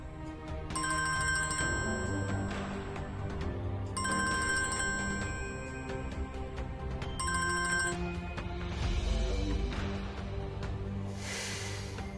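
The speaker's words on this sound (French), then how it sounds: "Décroche le fichu téléphone." A telephone rings in repeated electronic bursts, three trilling rings separated by short pauses, loud and close, heard alone with no talk over it.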